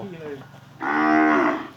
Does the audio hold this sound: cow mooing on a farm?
yes